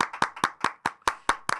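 A few people clap in quick, even rhythm, about eight sharp hand claps close by, crisp and separate with brief gaps between them.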